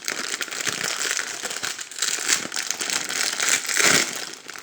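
Plastic packaging on mail items crinkles and rustles close up in a steady, busy stream of crackly bursts, with no speech.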